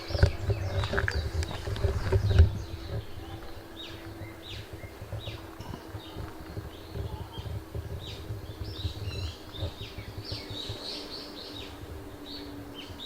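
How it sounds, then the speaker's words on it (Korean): Birds chirp and sing in a Jeju forest gotjawal, light scattered calls over a low insect-like hum, with a brief louder rustle at the start before the calls continue evenly and faintly. "하늘에는 막 새소리 떴다네요"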